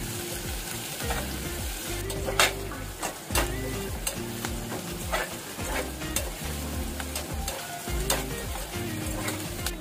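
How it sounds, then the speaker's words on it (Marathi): Two chopped onions fry and sizzle in a pan for a spicy chicken sukka masala, with a steady hiss, repeated scraping stir strokes and clanks throughout, close and fairly loud, no talk. "आता कांदा चांगला परतून घेऊया, चांगला लालसर होऊन देऊया।"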